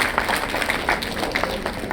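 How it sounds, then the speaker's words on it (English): Conference audience applauding for honored guests at a medical meeting, a dense steady patter of many hands clapping together, continuous and moderately loud with no voices over it. "A round of applause for them, please."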